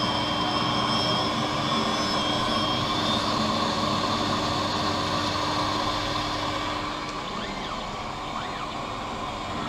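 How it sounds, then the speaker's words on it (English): An eyeglass lens edging machine grinds a bevel into a lens with a dense, steady whirring roar that runs continuously and eases slightly toward the end as it moves to the concave back surface. "it did the front, and now it's doing the back surface, the concave surface of the lens"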